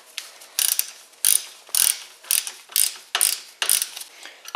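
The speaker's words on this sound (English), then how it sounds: "slowly tightening up each bolt and snugging them up" Ratchet with a 13mm socket snugging wheel bearing bolts on a 2008-2012 Chevy Malibu front hub, heard as repeated bursts of fast clicking, about seven separate strokes with short pauses between them, close and alone.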